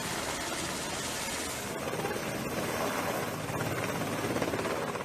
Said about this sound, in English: performs a fast roping exercise out of a Sikorsky Seahawk or other aircraft with hovering capabilities